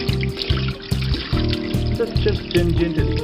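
Water is poured by hand while a washing machine filter is cleaned in an LG 6 kg fully automatic top-load machine, model T7070TDD: a close, splashing trickle over a regular rhythmic mechanical thumping.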